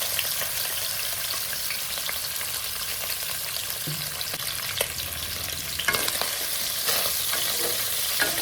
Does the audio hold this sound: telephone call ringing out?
no